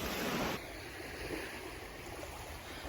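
Sea water at night, a soft continuous wash of small waves, quiet and steady, with a brief louder surge at the start.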